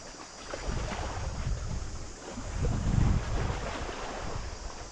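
Wind blowing outdoors on the coast of Koh Kham island in Thailand makes a steady, rushing rumble against the microphone, swelling in gusts with no talking.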